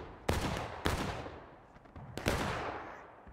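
Civil War muskets fire in repeated volleys in the War of Rights game, with three loud cracking bursts that each trail off into a rolling echo, some scattered shots between them and no talking.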